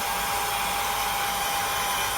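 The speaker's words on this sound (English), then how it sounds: "I'm going to go on and turn on my hair dryer" A hair dryer blows with a steady, loud, close whooshing hum that holds constant throughout, no voices present.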